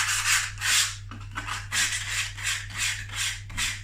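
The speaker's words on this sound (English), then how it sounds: "we're going to use a light sandpaper for this one" Light sandpaper rubs back and forth over a rotten window frame under repair, making soft, rhythmic rasping strokes in a steady repeating pattern, close and fairly quiet over a low background hum.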